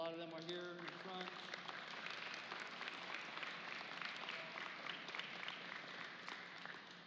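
Applause for a coaching staff at a signing day ceremony, a steady wash of clapping from a crowd lasting several seconds, with a voice briefly audible at the start.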